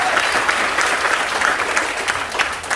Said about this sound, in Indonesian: Tepuk tangan dulu buat kita semuanya.